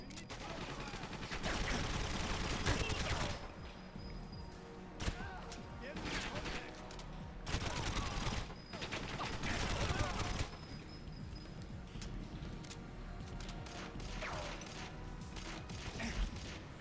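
Shots from a sniper rifle in a video game, a few sharp cracks standing out from a busy backdrop of game noise and mechanical clatter, with voices talking over much of it.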